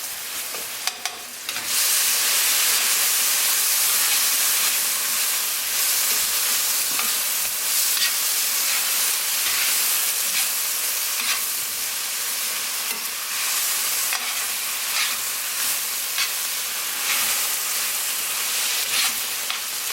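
Spices with paprika frying in a pan for a vegan nopales curry, a loud steady close sizzle with occasional stirring scrapes, continuous throughout with no talking.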